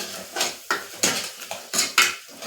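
A spoon scrapes and clanks against a metal pot while masala khichdi is stirred, with about five sharp, evenly spaced strokes, each ringing briefly before the next. The sound is close and clear, with no talk.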